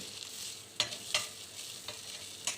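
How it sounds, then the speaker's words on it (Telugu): Ginger and garlic frying in a pan, a soft continuous sizzle with a few sharper scraping stirs, close and fairly quiet. "అల్లం వెల్లుల్లి కూడా వేగిపోతే అన్నిటినీ బాగా మిక్స్ చేసి"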